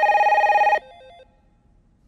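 A telephone rings in a Hindi action film scene, one loud electronic trill lasting under a second, followed by a fainter tonal echo and then near silence.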